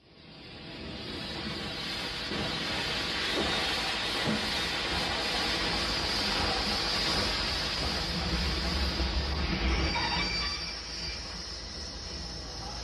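A train runs along the track with a sustained rumble and hiss, wheels grinding and squealing, swelling in loudness and then easing off slightly toward the end.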